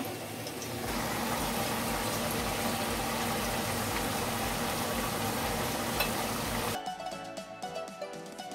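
Chicken and potato lacha pakora dropped into hot oil, a sudden loud bubbling sizzle that holds steady for several seconds before cutting off sharply, close and alone without talk.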